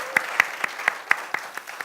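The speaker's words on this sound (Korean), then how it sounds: "여러분 그 박수 한번 부탁드리겠습니다." Studio audience clapping on a Korean talk show, a sparse and regular beat of about four claps per second that stays steady throughout.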